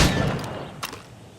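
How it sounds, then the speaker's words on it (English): Gunfire aimed at practice targets in Assassin's Creed Rogue, one short, fairly sharp report standing out over a dull, steady game background. "Shoot these targets."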